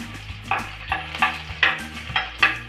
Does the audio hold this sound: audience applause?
no